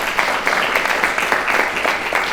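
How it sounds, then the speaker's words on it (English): An audience gives a round of applause for a panel at a construction business leadership summit: a dense, steady patter of many hands clapping at moderate distance, with no break over its short span. "so please give them a big round of applause."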